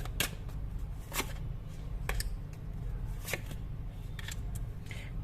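Tarot cards handled during a reading, several crisp short slaps and flicks spaced a second or so apart over a steady low hum, close and fairly quiet.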